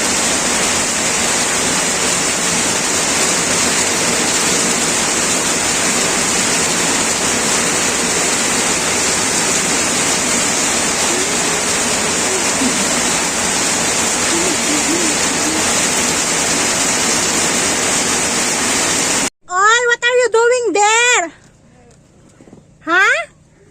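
Heavy rain pours loudly and steadily as a dense, even hiss that lasts about twenty seconds, then cuts off abruptly before a child's high-pitched voice.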